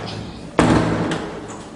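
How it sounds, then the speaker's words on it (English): A door closes with a single loud thud and slam, followed by a short reverberant tail and a faint knock. "oh wait, the door is closed."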